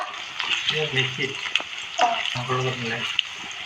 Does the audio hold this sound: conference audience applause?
no